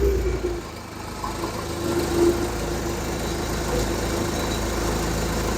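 A Hyundai forklift engine runs rough and overly rich, with a steady uneven idle and a low rumble that wavers slightly in level, close up and with no voices.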